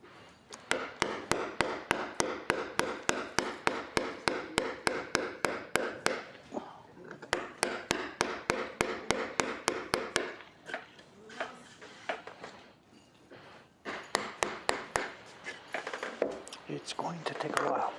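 Hand chisel work cleaning out holes in wood: a long run of rapid, evenly spaced sharp taps, pausing briefly then resuming in bursts, close and crisp, with a voice talking at times.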